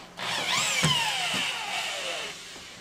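A power drill spins screws out of wooden wall forms used for light straw clay infill. Its close, steady whine slides downward in pitch over about two and a half seconds, with no talking.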